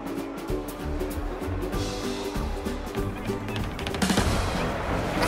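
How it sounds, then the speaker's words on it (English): Pyrotechnics going off in the video game A Hat in Time during a parade, a dense rapid string of crackling bangs and pops that swells louder toward the end. "Darling, can you turn on the pyrotechnics?"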